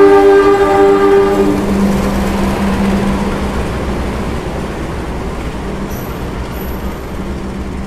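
The Malioboro Express passenger train rumbles steadily past at close range, a long horn blast sounding at the start before the roar of wheels fades slightly.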